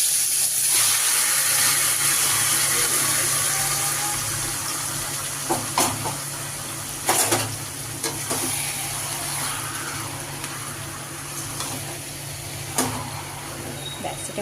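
Marinated chicken goes into hot oil with dried red chillies and whole garam masala, setting off a loud sizzling hiss that slowly fades, with a few sharp clatters of stirring and a faint voice.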